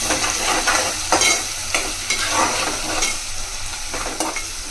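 A spoon stirs a green chili mixture in a hot pan for chicken buttermilk curry, giving repeated scraping strokes over a continuous close sizzle.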